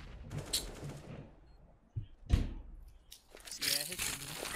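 Bursts of Counter-Strike: Global Offensive gunfire crack out in short volleys, with sharp individual shots and rapid bursts amid busy background noise.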